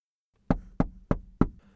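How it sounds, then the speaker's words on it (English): Four sharp, evenly spaced knocks on a door, loud and close, with brief silence before the first rap and no voices. "The door knocked, instantaneously knocking him out of his introspective daze."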